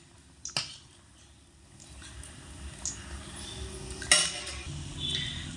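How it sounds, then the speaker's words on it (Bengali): Semolina and coconut pakoras flipped in a frying pan: a few sharp utensil clinks and taps against the pan over a low, steady background hiss, close and fairly quiet. "তো এইভাবে করে আমি একটু হালকা হাতে উল্টে দেব, যাতে করে অপর পিঠটাও ভালোভাবে ভাজা হয়।"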